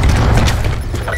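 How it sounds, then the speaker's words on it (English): A cluster grenade going off in Black Ops 4, a loud, heavy boom with a rumbling low body and crackling burst that trails off over about a second. "Cluster grenade"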